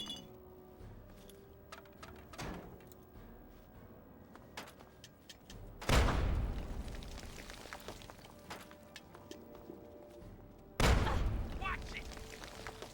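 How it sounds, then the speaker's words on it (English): Two heavy frag grenade blasts in Fallout 3 on PS3, the first near six seconds and the second near eleven, each a loud broadband boom with a decaying rumble, over quieter game noise and scattered clicks. "all it took was a couple frag grenades"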